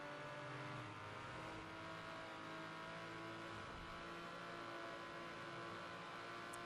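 Steady engine drone of a car in the racing video game The Crew, a continuous mid-level hum with faint shifting tones, no speech over it, fairly quiet and unbroken throughout.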